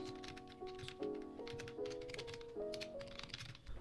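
Quiet tapping of keys on a computer keyboard while entering text into an editor, irregular light clicks heard close over a soft tonal background.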